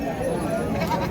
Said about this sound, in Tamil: செம்மறியாட்டு கிடா ஒரு ஜோடி எடுத்துகிட்டு வந்திருக்காங்க